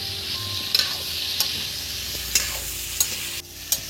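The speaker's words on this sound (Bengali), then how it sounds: "যখন এই আমটাকে ভাজা হবে না বন্ধুরা, তখন জোরে জাল দিতে হবে" Raw mango pickle with five-spice tempering sizzles steadily in a pan, close and moderately loud, punctuated by five or six sharp scrapes and clinks of a spatula stirring at irregular intervals.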